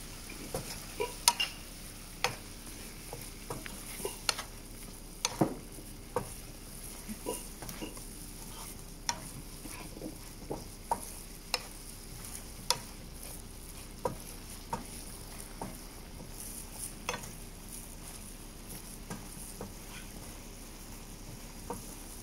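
A spoon stirring food in a frying pan in a home kitchen, giving soft scraping clicks and taps spread irregularly over a low steady sizzle, close by with no talking.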